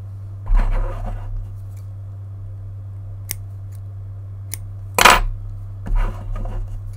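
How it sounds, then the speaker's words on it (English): Scissors drop onto a table with a sharp metallic clatter near the five-second mark, preceded by a few softer handling knocks and light ticks against a steady low hum. "that probably sounded really loud, dropping the scissors."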